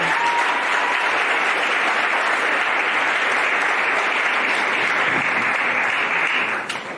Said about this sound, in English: Can we give a befitting round of applause,